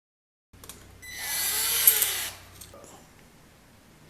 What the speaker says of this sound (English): use the drill to get that started on the other side.